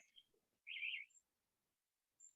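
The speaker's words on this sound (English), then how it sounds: "I can hear the birds chirping." Birds chirp outdoors on a cold morning, a few short bright calls with one louder burst in the middle and brief high notes before and after, faint and with no talk.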